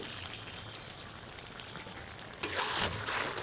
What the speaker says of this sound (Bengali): নেড়ে নেড়ে খুন্তি দিয়ে মিশিয়েও দিই